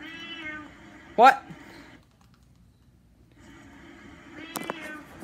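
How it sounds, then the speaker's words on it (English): A pet cat meows twice, short close calls separated by a quiet pause, with a person speaking briefly in the room. "Oh, it's a cat."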